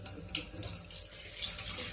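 Fish being rinsed under a running kitchen tap, a steady close splashing hiss of water with small shifting splashes throughout, no talking.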